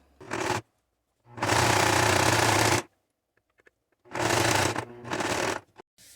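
Domestic sewing machine stitching fabric for a waterproof necessaire, heard as three close, loud bursts of rapid mechanical whirring with short quiet pauses between them.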